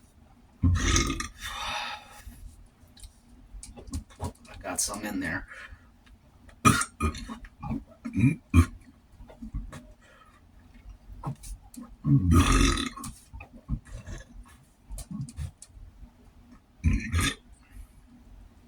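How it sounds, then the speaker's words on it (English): A person lets out a series of loud, close burps after a meal of eggs, beef ramen and cayenne pepper, about five bursts spread irregularly, with a brief spoken phrase between them. "Let me just burp"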